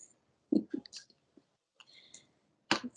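Scattered keyboard clicks tap out in short, uneven bursts with pauses between, fairly quiet and close, without any voices.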